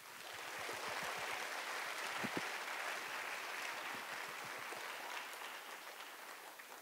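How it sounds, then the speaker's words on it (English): Applause from a school string concert audience, a dense, sustained clapping filling the hall at moderate distance, steady throughout with a few sharper individual claps near the front. "Can we give our round of applause one more time?"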